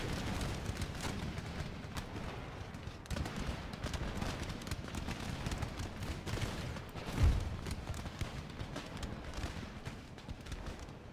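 Battle in the Empire Total War strategy game: continuous distant musket fusillades and crackling gunfire, with a heavier artillery thump near the end, dense and steady throughout.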